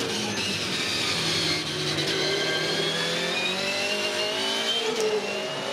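From onboard the Volvo Polestar S60 Supercar at a 2014 Tasmania 400 race, the engine roars continuously at high revs, pitch shifting gradually with gear changes.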